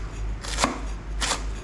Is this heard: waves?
no